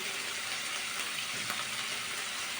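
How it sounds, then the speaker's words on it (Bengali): Eggplant frying in hot oil, with a dense, steady sizzle and fine crackling that carries on loud and unbroken throughout. "আমি কিন্তু এখন ভালো করে একটু ভেজে নেব বেগুনটাকে"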